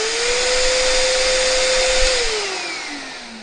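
Hoover Discovery cordless vacuum cleaner, after a bearing fix, whirs loudly and steadily with a high motor whine, then the pitch falls and the sound fades as the motor winds down, with no talk.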